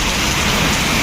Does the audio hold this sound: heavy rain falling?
yes